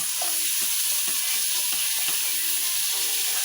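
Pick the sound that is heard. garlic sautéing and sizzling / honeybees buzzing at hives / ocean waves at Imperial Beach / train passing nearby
garlic sautéing and sizzling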